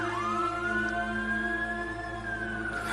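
An ambulance siren holds one long rising then steady wailing tone, loud and fairly close, over a low background hum with no talking.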